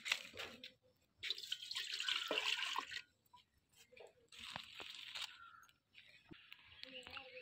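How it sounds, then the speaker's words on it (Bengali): A bowl of water is poured in to make flour dough for flatbread, splashing in quiet, uneven bursts separated by short pauses in a home kitchen. "ময়দার খামিরটা করার জন্য দিয়ে দেব 1 বাটি জল।"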